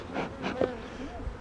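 Honey bees buzz around a hive after a nuc transplant, their hum close and wavering with passing bees, while a voice murmurs faintly underneath.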